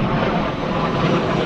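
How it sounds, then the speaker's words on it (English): Space Shuttle Atlantis coming in to touch down on runway 15 at Kennedy Space Center, a loud steady broadband roar with no breaks, heard briefly and up close. "Coming into touchdown on runway 15 at the Kennedy Space Center"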